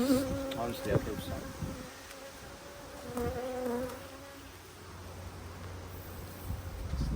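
Honeybees buzz steadily around a hive while the colony is moved, a dense droning hum with individual bees passing close now and then.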